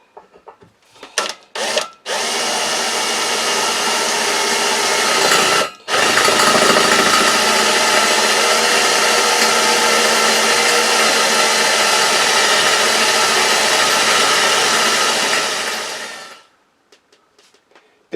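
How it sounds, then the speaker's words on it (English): A power drill bores a pilot hole through metal for a table saw roller stand: a few short starts, then one loud continuous whine lasting about ten seconds before winding down to silence. "So put pilot drill through first."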